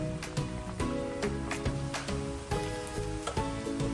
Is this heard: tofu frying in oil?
yes